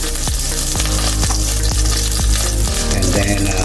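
Leftover hot oil poured over red snapper, giving a loud continuous sizzle and crackle with bubbling spatter throughout, close up, with no talking.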